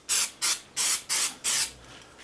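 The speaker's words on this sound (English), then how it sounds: "Now I'll take my spray activator, spray the other side." Five short, even bursts of spray activator hissing from a can onto super glue, each lasting about a quarter second with brief gaps between, close and clear.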